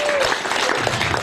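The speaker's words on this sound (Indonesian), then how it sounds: "tepuk tangan buat panitia" Continuous dense applause from a crowd at a Christmas celebration honouring the organizing committee, steady and loud throughout with no breaks.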